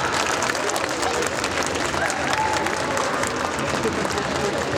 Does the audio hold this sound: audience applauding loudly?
yes